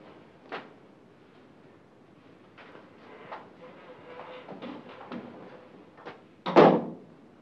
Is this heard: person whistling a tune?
no